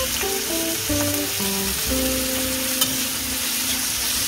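Mixed vegetables with capsicum fry in a pan, giving a loud, steady sizzle that runs unbroken throughout, with faint tonal clinks underneath.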